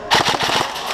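Airsoft gun firing a rapid burst of sharp, loud pops in close succession, close to the mic during an outdoor skirmish game.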